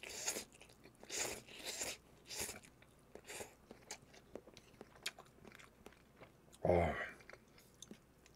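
Close, quiet chewing and slurping of noodles from Korean beef bone soup, soft wet bites in an irregular rhythm with one louder slurp near the end, no talk.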